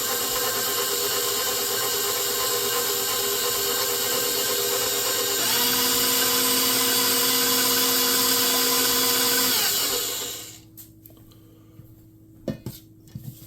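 An electric hand mixer whirs steadily through vanilla extract and sugar for king cake batter, its motor note shifting pitch partway through before cutting off, leaving a few faint bowl clinks.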